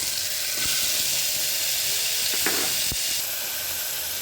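Tomatoes go into a hot pan with ginger-garlic paste, giving a loud, continuous close sizzle with a few brief knocks of a spoon.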